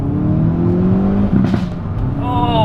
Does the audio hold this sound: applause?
no